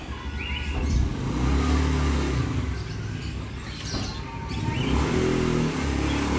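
A Honda Beat FI scooter fitted with a Mutarru CVT set revs hard on a short road, its engine note swelling and easing in sustained pulls, with faint bird chirps in the background.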